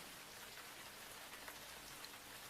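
Steady rain falls and drums on surfaces in a cold, windy outdoor scene of an audio drama, a dense, even hiss with scattered drop taps throughout and no voices.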